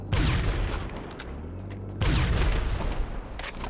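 Two railgun shots from GTA Online strike a Hydra jet, each a loud heavy boom with a crackling burst and rumbling tail, roughly two seconds apart, close and dominant.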